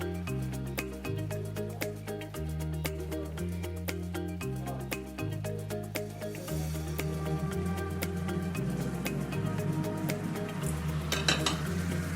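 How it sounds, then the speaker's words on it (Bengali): Previously fried eggs are added to a pan for a vegetarian egg curry and stirred, giving a steady soft sizzle and occasional utensil scrapes under louder melodic background music. "ভেজে রাখা ডিমগুলো আমি সব দিয়ে দেব। আস্তে আস্তে সবগুলো ছেড়ে দেব।"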